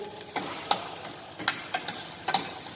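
A vegetable and potato mixture cooking in a soup pot and being stirred, heard as several brief scraping clacks over a steady soft sizzle, close by, with no voices.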